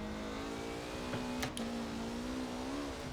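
A Caterham Superlight's engine drones steadily as the car runs downhill on the Nordschleife, a constant high-pitched tone from inside the car, with a brief bump midway.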